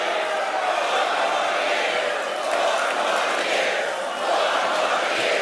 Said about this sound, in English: when Biden stutters, the crowd just starts chanting